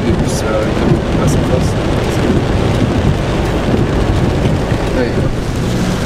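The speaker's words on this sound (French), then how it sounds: "il pleut toujours autant" A heavy rainstorm with strong wind pours down in a dense, steady roar, loud and close throughout, with wind buffeting the microphone.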